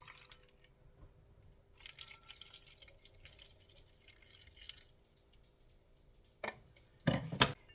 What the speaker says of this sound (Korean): 워터 100ml를 따라줍니다. 통에다 부어주세요.